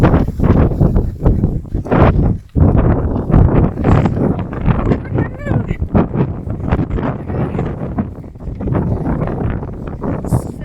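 Gusty wind buffets the microphone on a mountain caldera trail at Minami Aso during a trail running festival, a loud, continuous rushing roar with a person talking over it throughout.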